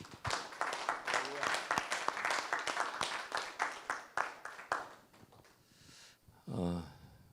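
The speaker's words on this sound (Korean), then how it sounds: "오늘 이 시간 허락하신 우리 주님께 찬양과 감사와 영광의 박수 올려드립니다." A church congregation breaks into brisk applause for about five seconds, then the clapping fades and a voice begins speaking.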